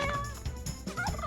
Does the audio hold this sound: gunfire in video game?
no